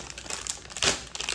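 A plastic wrapper on an ice cream bar is torn and crinkled open by hand, close and quiet, with rapid rustling crackles and a brief louder rip in the middle.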